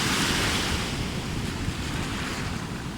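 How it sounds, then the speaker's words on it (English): Steady roar of Pacific Ocean waves crashing and washing, loud and close, with wind noise over the microphone and no speech. "Look at that wave."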